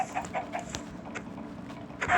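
A chicken clucks in a video game, hit by a punch, in short, scattered bursts over a soft background bed, ending with a louder squawk.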